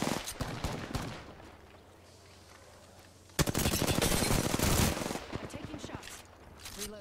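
Bursts of automatic gunfire in the Apex Legends video game: a short burst at the start, a lull, then a loud sustained volley with rapid shots fading toward the end.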